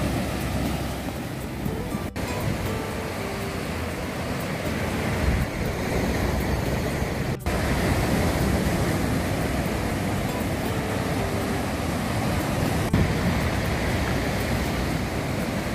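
Ocean surf breaking continuously on the shore at Cromer, Norfolk, on a bright October day after stormy weather, a steady broad roar of waves with wind buffeting the microphone and no voices.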